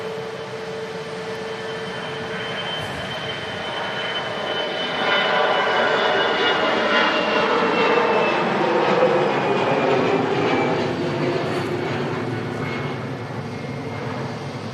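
An EasyJet airliner taking off at Manchester Airport: a broad jet roar swells from distant to loud over several seconds, holds at full strength, then eases slightly. No one talks.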